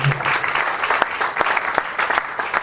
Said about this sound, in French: Acclamons pour le Seigneur